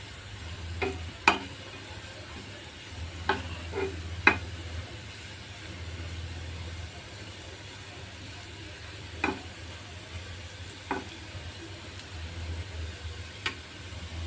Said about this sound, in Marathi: आणि हा चांगला आता परतून घेऊया.